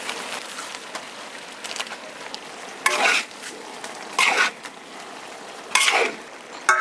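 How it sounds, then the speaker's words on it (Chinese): Chili peppers stir-fried with salt in a large pot sizzle softly, broken by three loud scraping stirs of the spatula spaced a second or so apart. "辣子炒一层，加盐继续炒。"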